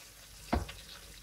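Onions dropped into hot oil in a pan give a sudden burst of sizzling that quickly settles into a low, steady fry, close and alone with no voices.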